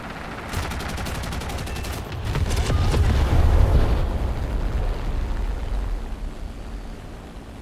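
C.202EC fighter cannons firing in bursts at an enemy bomber in a flight combat video game, rapid rattling shots over a booming explosive roar and engine drone, loud and close.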